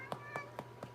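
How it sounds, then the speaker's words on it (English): A cat meows four times in a quick, even series, soft and close, over a steady low electrical hum indoors. "that's just a cat that just came by"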